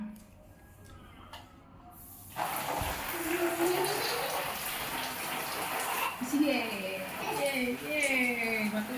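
Water pours from a plastic bottle rigged as a makeshift shower in place of a broken one, splashing steadily after a sudden start, with voices talking over it.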